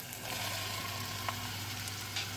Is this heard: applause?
no